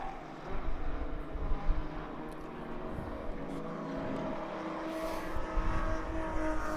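Touring cars racing at Sonoma Raceway, engines droning and revving steadily at moderate distance with a swelling pass near the end.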